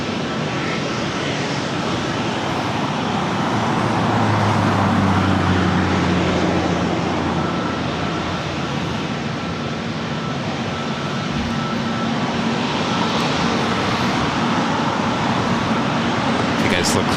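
An airliner landing on runway 24 right at LAX, a loud, continuous jet engine roar that holds steady and swells slightly midway, with faint voices beneath.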